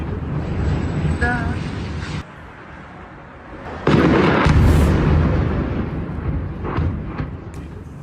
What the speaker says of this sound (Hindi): क्रेन से टकराया यूक्रेन का ड्रोन और क्रेन से टकराने के बाद जोरदार धमाका।